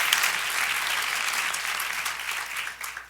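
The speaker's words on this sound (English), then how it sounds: "I'll give them a round of applause" Audience round of applause at a university forum on equity, bright, dense clapping from a sizable crowd, strong at first and fading slightly toward the end.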